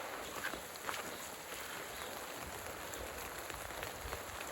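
Heavy rain falls steadily during a downpour over a rainwater harvesting setup, a faint, dense hiss with scattered drop patters and no voices.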